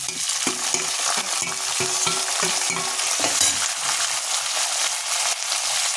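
Capsicum frying in a tempering of roasting peanuts, chana dal, urad dal and dried red chilli, a steady close sizzle with repeated stirring scrapes in the pan and no talking.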